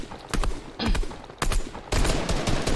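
Rapid bursts of gunfire in a Fortnite match, four loud clusters of sharp cracks in quick succession, close and punchy.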